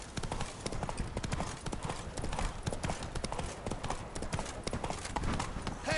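Roach, the horse in The Witcher 3: Blood and Wine on PS4, trots with a steady, brisk clip-clop of hooves that runs throughout at close range. Voices occasionally murmur faintly underneath.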